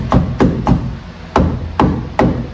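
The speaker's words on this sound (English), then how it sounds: "with my hammer" A hammer taps a metal headliner prong through fabric on a 1960s Cadillac roof, six sharp, close blows in an uneven rhythm, loud and alone.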